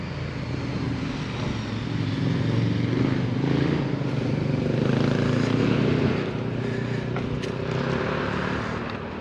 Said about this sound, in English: Got some motorcycles coming.